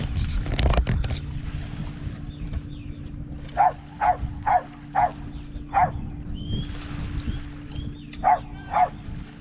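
A low boat engine hum runs throughout as a dog barks in short bursts, several sharp barks spaced irregularly, a few others at moderate distance.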